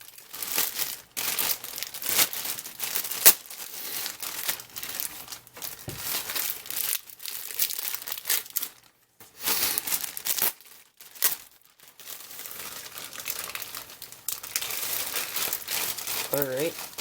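Packing tape and wrapping crinkle and tear in bursts as a heavily taped box of carnivorous plants is opened, close and fairly quiet, with brief pauses and some talking.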